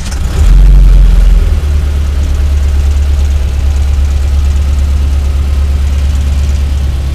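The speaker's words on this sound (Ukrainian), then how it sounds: "Починаю газувати." A T-40AM tractor's diesel engine surges loudly with a throttle blip, then settles into a steady, deep, heavy idle rumble close by.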